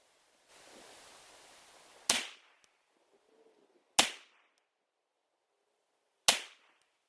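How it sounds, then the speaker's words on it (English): Three sharp rifle shots fired outdoors, each a loud crack with a short echoing decay, spaced about two seconds apart after a stretch of soft hiss, with quiet gaps between. "we'll shoot a few more, and yeah, I'm just enjoying shooting the rifle"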